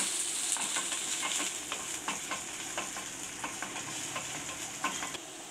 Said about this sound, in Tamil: இதை சேர்த்து நல்லா வதக்கிக்கலாம்